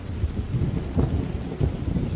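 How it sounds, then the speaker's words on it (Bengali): Heavy rain falls steadily at night in a village setting while low thunder rumbles in repeated rolling bursts, a dense, deep wash of sound with no voices. "দেখো না কি সুন্দর বৃষ্টি হচ্ছে"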